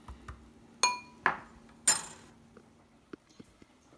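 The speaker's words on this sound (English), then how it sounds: "So now I've just taken them out of the oven after 15 minutes of roasting." Metal baking tray of roasted chickpeas pulled from a kitchen oven: a few sharp clanks and clinks of the pan, then light rattles and small taps trailing off.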